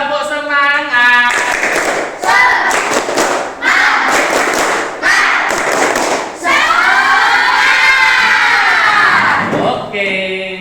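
A class of children doing a rhythmic spirit clap, bursts of patterned clapping and loud shouted chanting in repeated phrases, ending in rising cheers, close and energetic in a classroom with a teacher's voice briefly heard.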